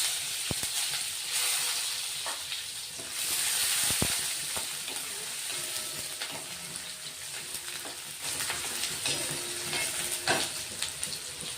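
Onion sizzles and crackles steadily in hot oil with mustard seeds, cumin and curry leaves, a dense continuous fry hiss with occasional sharp pops and utensil clicks, close and moderately loud without any talking.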